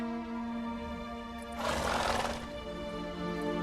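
A horse snorts and whinnies in The Witcher 3: Wild Hunt, a brief breathy burst over a steady droning game soundtrack, moderately loud and close.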